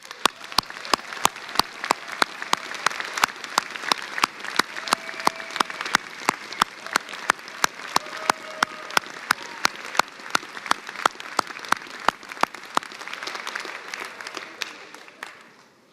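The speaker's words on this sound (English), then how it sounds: "Let's give them a round of applause." Applause from a large audience at a university school of public health spring commencement ceremony goes on steadily, with sharp individual claps standing out from the dense clapping. It dies away near the end.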